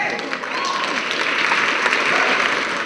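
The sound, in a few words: audience applause at a student convocation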